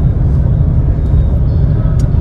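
A car engine runs during a driving lesson, a steady loud low rumble heard from inside the vehicle, with no clear talking.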